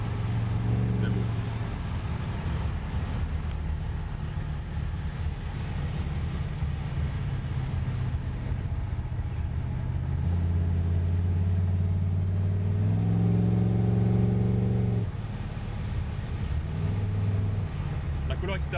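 A 1967 Ford Mustang muscle car in turquoise blue, its engine rumbling steadily with a couple of louder revs building near the end, heard up close with no talk over it.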